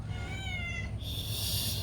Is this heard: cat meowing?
yes